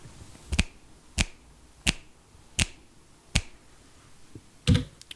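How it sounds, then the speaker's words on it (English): Finger snaps recorded into a microphone: six sharp, isolated snaps spaced at roughly even intervals, clean and close against a quiet background. "Recorded some finger snaps"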